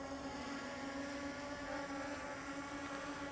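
Ameta S50 Lite 249g GPS mini drone lifting off outdoors, a steady high-pitched propeller whine with a constant buzzing drone tone and a little wind noise, quiet and unbroken throughout.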